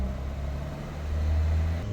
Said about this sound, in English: So we're going to hold the revs up now